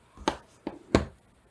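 Scissors cut two paper words for a notebook bookmark, making three short, crisp snips close by in a quiet room, with no talking.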